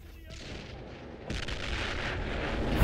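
Artillery fire from the World War II strategy game Men of War: Assault Squad 2, with rumbling booms that grow heavier and louder partway through, while a commentator talks over the battle.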